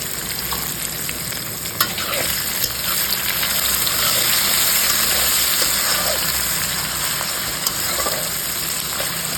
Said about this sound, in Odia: ତ ଏବେ ଆମର ପଡ଼ିବ ପିଆଜ। ପିଆଜ ପଡ଼ି ସାରିଛି, ଏବେ ଟିକେ ଲୁଣ ପକାଇଦେବା